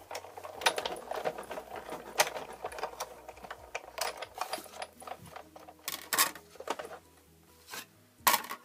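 A die-cutting machine with a magnetic plate cuts card for an embossed window card, making uneven mechanical clacks, rattles and clicks that come in close, irregular bursts.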